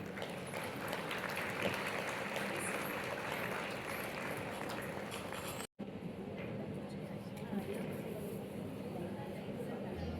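A stage welcome draws sustained audience applause, a dense, even wash of clapping that dips briefly near the middle and then continues, with voices faintly mixed in.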